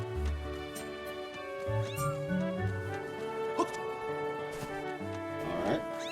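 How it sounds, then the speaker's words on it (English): Mia, a cat in Zelda Skyward Sword, meows a few times over game music, with short close calls rising and falling across the clip. "Oh, you're like a big kitty cat."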